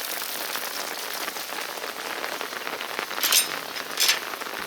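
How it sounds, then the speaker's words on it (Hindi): Rain falling in front of a house, with water streaming down like a small waterfall, a steady soft hiss of drops and running water, with a couple of brief brighter splashes near the end. "देखो भाई, बारिश में घर के सामने नेचुरल झरना बना हुआ है।"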